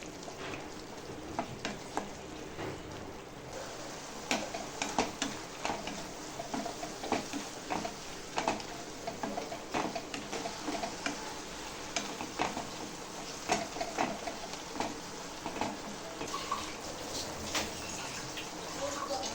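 Moringa leaves with turmeric sautéing in a pan, a soft steady sizzle broken by scattered scraping and stirring clicks, close and fairly quiet throughout.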